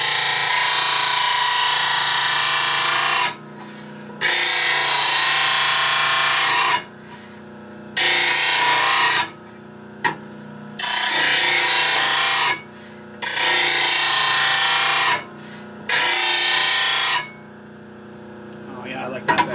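A grinder tool cutting wood in long, loud bursts of harsh abrasive grinding, about seven passes separated by brief pauses, close up.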